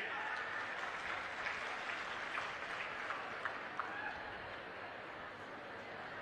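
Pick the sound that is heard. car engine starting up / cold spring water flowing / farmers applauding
farmers applauding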